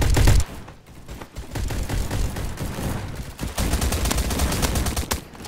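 Rapid gunfire bursts from a video game match, with dense overlapping shots and booms that swell and fade across the stretch, loud and continuous with brief lulls.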